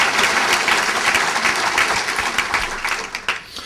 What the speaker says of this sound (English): If we could please have a round of applause for our panel.